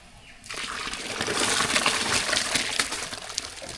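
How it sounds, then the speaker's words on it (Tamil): Ingredients tip into a pot of boiling water for sambar, opening with a sudden splash after a quiet moment, then a loud, sustained bubbling and gushing churn close by, with no talking. "சாப்பாடு தண்ணி நல்லா கொதிச்சிருச்சு இப்போ சேர்த்துக்கலாம்"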